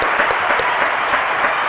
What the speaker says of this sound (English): Can I get a round of applause for him?